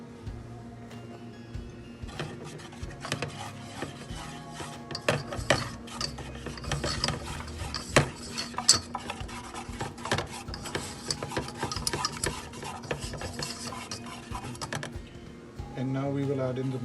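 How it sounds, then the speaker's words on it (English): A whisk working flour into melted butter in a pan, with a dense, continuous scraping and rattling that holds steadily and close for the whole stretch, with a voice talking over part of it. "with the butter now all nicely melted, we'll add in the flour and keep on whisking."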